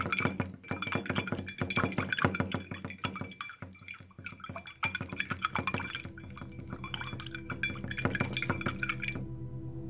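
Two-stroke oil and diesel slosh and clink inside a container as they are shaken together, in irregular rattling bursts of splashing liquid and knocking.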